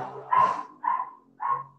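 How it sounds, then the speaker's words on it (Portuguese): A neighbour's dog barks three times at a steady pace. The barks are moderately loud and carry from just outside a home, with no talking over them. "O vizinho saiu agora de casa, hein? E o cachorro começou a latir"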